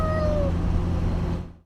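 A single cat gives a clear, close meow that falls in pitch. It sounds over a steady background murmur, and that murmur cuts off abruptly at the end.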